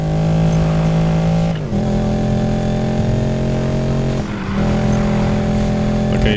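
Mercedes G63 engine drives steadily in Need for Speed Payback, a loud continuous drone that holds a steady pitch, with slight shifts in tone around the gear changes and no voice over it.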